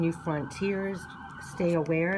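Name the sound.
passing sirens outside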